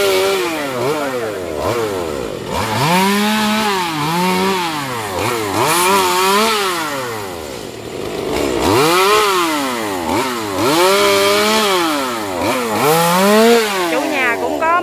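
A chainsaw cuts long branches from mango trees, its engine rising and falling in repeated loud revving cycles as it bites into the wood, close and dominant throughout.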